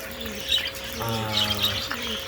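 Pet birds chirp and call in short bursts close by, some notes ringing clearly, with a person talking over them.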